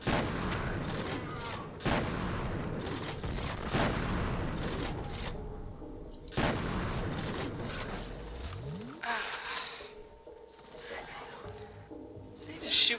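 Gunfire from the first-person shooter F.E.A.R. rings out in loud repeated bursts with mechanical clanks and ratcheting between shots, later giving way to quieter scattered sounds and a final loud blast.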